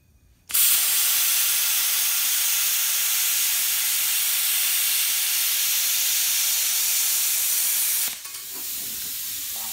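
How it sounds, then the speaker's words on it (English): A Hypertherm plasma cutter flush cutting a weld off a small steel T-joint gives a loud, steady hiss that starts abruptly, holds for about eight seconds and then cuts off to a quieter background. "We're going to flush cut this weld off this little T-joint that we have here."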